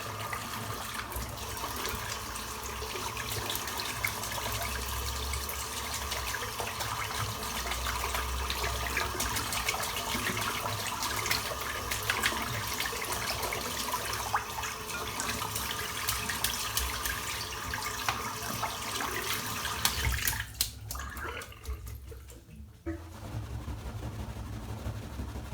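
A shaving brush is rinsed under a running tap, a steady close rush of water lasting over twenty seconds that breaks up and sputters briefly near the end, with no voices.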